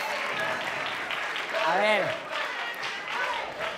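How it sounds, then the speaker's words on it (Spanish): Audience applause at a children's carnival in Almería, a steady wash of clapping and cheering throughout, with a voice speaking briefly over it. "fuerte aplauso para esta señora"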